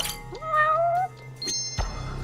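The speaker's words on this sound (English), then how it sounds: "Oh, look, a cat." A cat meows in the video game Judgment, one clear rising, drawn-out meow near the listener, followed by a softer short mew over a quiet low hum.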